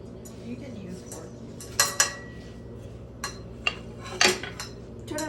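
Scrambled eggs being stirred with a fork in a bowl, several sharp metallic clinks and taps at irregular intervals over a quiet kitchen background, with people talking softly.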